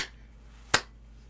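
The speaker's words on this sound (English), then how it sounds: "I was mostly clapping my hands to keep it warm" A single sharp hand clap, made while clapping to keep warm, stands out once, loud and alone, against quiet background.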